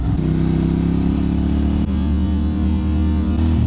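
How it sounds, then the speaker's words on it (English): A motorbike engine runs loud and close in a steady, throaty drone, holding an even pitch with a brief dip midway and no voices over it. "That guy really did not like the sound of my bike."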